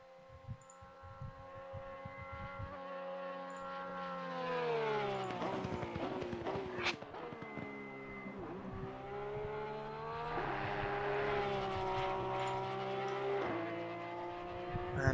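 GT3 race cars in the racing game Assetto Corsa Competizione, an engine wail climbing and dropping through gear changes as a car sweeps past, then another rising howl, fairly faint under a race commentator's voice.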